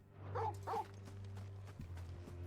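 Torgal, the dog from Final Fantasy XVI, gives two quick barks near the start, close and clear over a steady low background hum, followed by soft footstep-like thuds.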